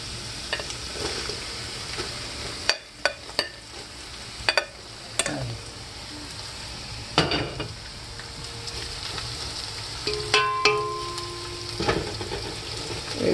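Onions sauté with browning ginger in a pan for a coconut and crab dish, producing a continuous sizzle punctuated by sharp utensil clacks and stirring scrapes, with no talking.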